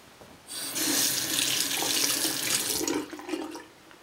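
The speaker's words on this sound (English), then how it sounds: "Quick rinse there." Tap water runs into a sink for a quick rinse beside an ultrasonic cleaner, a steady hissing stream lasting about three seconds before it tapers off, close and fairly loud with no talk.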